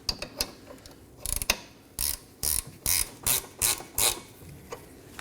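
A hand ratchet clicks while tightening a rear lower control arm bolt on a 2015-2023 Nissan Maxima, giving a series of close, evenly spaced ratcheting strokes, each a short burst of clicks.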